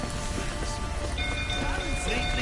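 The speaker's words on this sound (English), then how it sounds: "Looks like rain." Steady rain hiss in The Witcher 3, a dense even wash of falling rain holding at a constant level throughout, with faint background tones and no clear individual drops.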